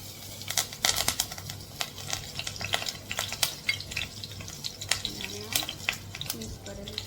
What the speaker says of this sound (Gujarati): હવે આપણે હિંગ નાખશું. મીઠો લીમડો નાખશું.